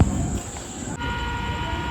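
A train arrives at Azimganj station, its rumble and a sustained high horn-like tone heard up close on the platform for about two seconds with a brief break midway.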